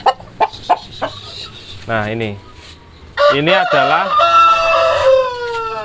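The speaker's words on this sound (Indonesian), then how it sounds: "Nah, ini kita ambil jago" A rooster clucks in short close bursts, then crows loudly in two long, ragged calls, with someone speaking briefly between them.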